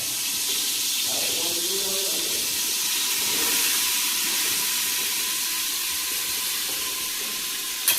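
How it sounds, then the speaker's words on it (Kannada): Spices crackle as a tempering in about 100 grams of hot oil for egg biryani, a loud, steady sizzling hiss that lasts the whole stretch. "ಗ್ರಾಮ್ ಆಯಿಲ್ ಹಾಕಿದ ತಕ್ಷಣನೇ ಈ ಥರ ಐಟಮ್ ಇರುತ್ತಲ್ಲ ಅದನ್ನ ಒಗ್ಗರಣೆ ಮಾಡ್ಕೋಬೇಕು"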